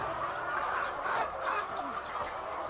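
A crowd of layer chickens on a goat farm, with dense clucking and chattering that blends into a steady, moderately loud flock murmur.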